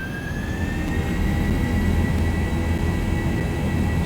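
A Zibo Boeing 737-800 in the X-Plane 11 simulator roars at TOGA takeoff power, with a steady loud jet engine rumble and a faint rising whine, continuous with no voices.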